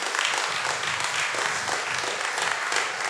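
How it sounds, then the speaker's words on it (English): Dense, steady applause from a church congregation, many hands clapping together without pause for the whole stretch, loud and close. "Let us clap to praise God"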